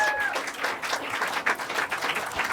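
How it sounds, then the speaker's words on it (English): An audience applauds after a talk by L A Marzulli, a dense, steady wash of clapping from a crowd, fairly close and sustained for the whole stretch. "Round of applause."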